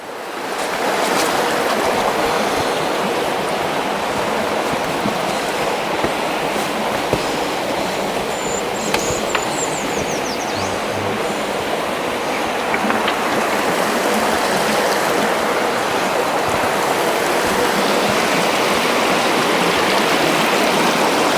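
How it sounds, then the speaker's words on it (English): Flowing river water rushes steadily where it emerges from the base of Malham Cove, a limestone cliff in the Yorkshire Dales, as a loud, unbroken roar heard close by. "this river emerges from the bottom of the cove over there."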